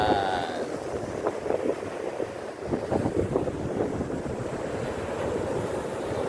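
Sea waves breaking on a beach at a group outing, a continuous rushing surf noise mixed with strong wind buffeting the microphone, with no talking.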